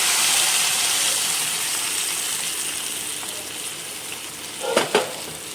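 Half a litre of milk goes into a frying pan with pistachios for macaroni payasam, giving a broad, fading hiss and sizzle, followed near the end by a couple of quick stirring clatters.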